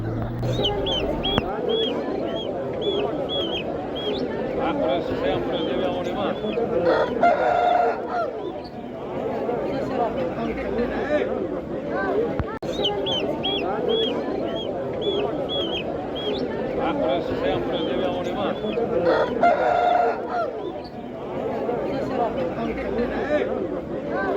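Chickens, including Jersey Giants, cluck and call over and over at a poultry bazaar in G'ijduvon, a busy, steady racket of birds throughout with someone talking over it.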